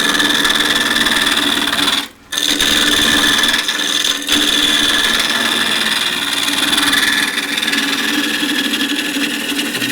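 Wood spins on a lathe while an asymmetric bowl gouge knocks the corners off a mallet blank, a steady whirring hum with a brief cutoff just after two seconds and a small dip near four.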